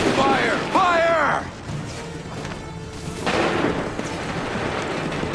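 Musket volley from soldiers during a Revolutionary War battle at Lexington in Assassin's Creed 3, loud booming cracks with a rolling rumble, heard among shouted battlefield voices and clatter.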